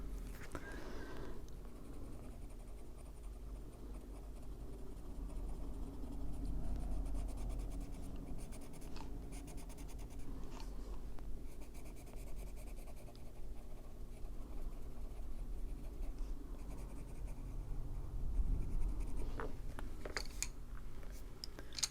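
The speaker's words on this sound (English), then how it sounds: "So we'll just take our little white pencil." A white Kalour colored pencil scratches across paper in continuous soft strokes, a faint steady scraping that runs for about twenty seconds with small shifts in pressure.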